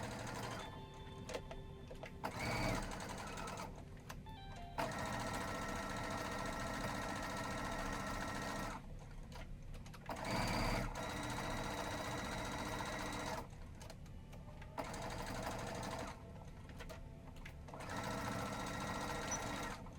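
A sewing machine stitching plush Sherpa fabric for an Appa toy runs in a steady, close buzzing whir, stopping briefly every few seconds before it starts stitching again.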